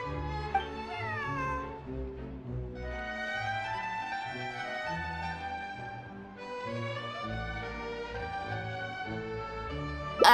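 A cat in the Genshin Impact game, a friend's pet, meows repeatedly in a steady series of harmonic mews with brief pauses between them, moderately loud and alone.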